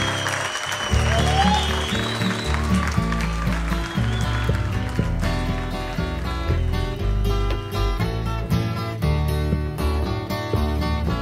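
A crowd at the Waterloo Ice House in Austin claps and cheers to welcome a band. The applause is dense and continuous for several seconds before live music takes over.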